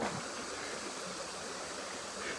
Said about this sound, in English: Yay, some beautiful sounding rapids.